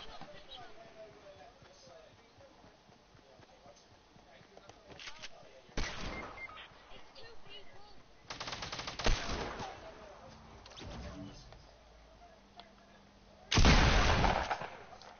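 Video game gunfire: a few scattered bursts of shots, some loud and close, others fainter, between quieter stretches of background game noise.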